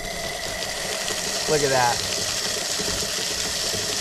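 A used mud pump, running to jet drill a water well, drones steadily and loudly outdoors with a gurgling, churning rumble, while someone briefly speaks over it.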